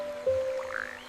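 A single frog croak, one short nasal call that rises and trails off with a quick rattling pulse, close and clear against a quiet background.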